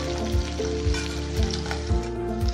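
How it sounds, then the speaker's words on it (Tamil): About 100 grams of peeled small onions sauté in a pan for radish chutney, sizzling steadily up close, with regular stirring scrapes about every half second. "இப்போ வந்து உரிச்சு வச்சிருக்க 100 கிராம் சின்ன வெங்காயத்தை சேர்த்துக்கலாம். சேர்த்து நல்லா வந்து வதக்கி விட்டுக்கலாம்."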